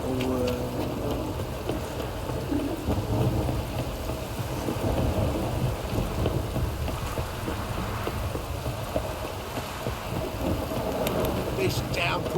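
Heavy rain and rolling thunder in The Witcher 3: Wild Hunt, a dense, steady downpour with low rumbling underneath that continues evenly for the whole stretch, loud and enveloping.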